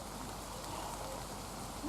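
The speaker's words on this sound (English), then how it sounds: "let's see if the rain stops" Outdoor rain falls as a steady, soft hiss of fine drops, faint and even with no voices over it.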